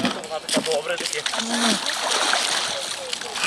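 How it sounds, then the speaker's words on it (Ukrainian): People plunge into icy water at an outdoor Epiphany blessing, with splashing and sloshing under excited voices and shouts from nearby onlookers. "У Ланівцях також знайшлося декілька сміливців, які наважилися зануритися у крижану воду."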